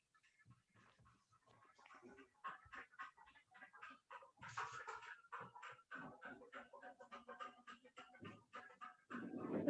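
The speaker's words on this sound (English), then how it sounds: "is there a dog in the room with you?" A dog in a room indoors pants and whimpers in quick, uneven breaths and small whines that get louder toward the end, heard faintly close to the microphone.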